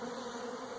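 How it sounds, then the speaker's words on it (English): Package honey bees buzzing at a hive entrance, a steady droning hum from many insects, close and continuous throughout the brief moment. "most of these bees, they won't just come flying out the hive"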